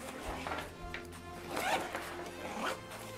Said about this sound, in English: Looks like the top part here can zip out from the inside.